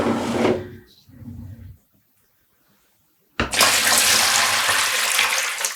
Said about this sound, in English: I'm going to add 4 liters of water